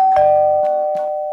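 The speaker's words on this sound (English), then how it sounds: "I think I hear the doorbell ringing." Up close, a doorbell chimes with several ringing tones that blend into one sustained, clear note.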